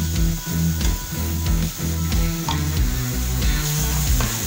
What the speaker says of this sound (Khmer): យើងកូរប្រហុកនឹងឲ្យឈ្ងុយ